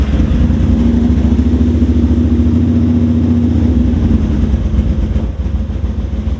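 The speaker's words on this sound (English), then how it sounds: "Usually if I choked it like that and put the choke in, it wouldn't stay running right now at this low RPM." A 2008 Kawasaki Teryx engine with a new Dynatek coil runs steadily at low idle on choke, a loud continuous mid-pitched drone that holds throughout with no voices.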